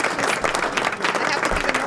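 An audience claps at a talk-show style event, fairly loud, dense clapping filling the whole moment with some crowd noise mixed in.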